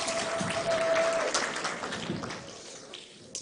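Audience applause at a political alliance launch, a broad patter of many hands clapping at moderate level that tapers off toward the end.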